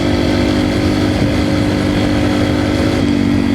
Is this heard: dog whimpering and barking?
no